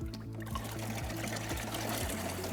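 Dirty water drains out of an Electro Freeze pressurized frozen-dessert machine in a quiet, steady pouring trickle, with a soft rhythmic mechanical thumping underneath and no one speaking.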